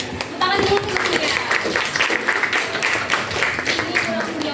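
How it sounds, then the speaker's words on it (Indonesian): Students in a classroom applaud together during a guidance lesson on mental health, a dense steady patter of hand claps that carries on for several seconds at close range. "Tepuk tangan dulu semuanya"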